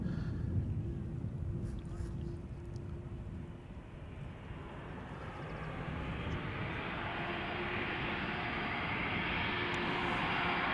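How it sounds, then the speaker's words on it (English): An Airbus A330 taxiing past at Schiphol Airport gives off a steady, broad jet-engine roar that swells slowly as it comes closer, with a low engine hum underneath. "the tail of the A330 that has just passed around the northern threshold of the center runway and is now taxiing back to the south"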